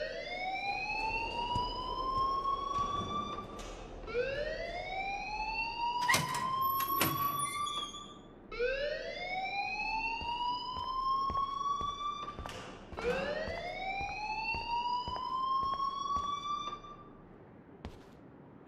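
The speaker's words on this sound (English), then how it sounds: "please turn off that alarm since that's your job" An alarm ringing in the video game Life is Strange, a loud electronic wail that rises in repeated upward sweeps roughly every four seconds, with sharp clicks and clatter scattered between the sweeps.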